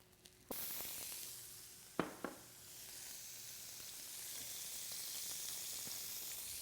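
Zucchini hits a hot pan for a Korean vegetable dish and bursts into a loud, steady sizzle that keeps hissing, with a couple of sharp clinks of utensils partway through.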